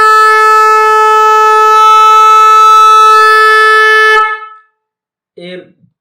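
A loud aftermarket motorcycle pop or racing horn blares close up in one sustained, harmonically rich blast of about four seconds, then cuts off, followed by a brief voice.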